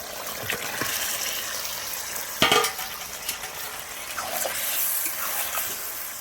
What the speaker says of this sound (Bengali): এবার আমি মাংসটা তুলে দেবো।